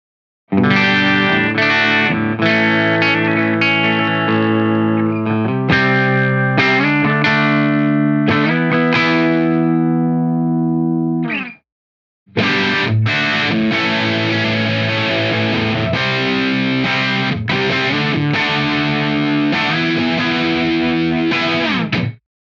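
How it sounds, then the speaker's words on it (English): Electric guitar played through an Aclam Cinnamon Drive dual-stage overdrive pedal aimed at classic British tube-amp crunch, loud driven chords and riffs ringing out, a brief pause near the middle, then dense strummed overdriven playing resuming to the end. "This dual-stage overdrive is designed to replicate the natural, open and dynamic overdrive tones of classic British tube amps pushed to their limits"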